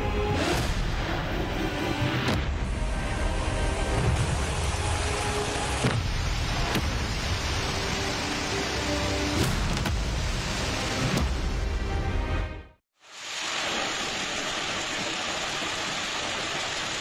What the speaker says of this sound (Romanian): Furtunile violente au măturat jumătate de țară.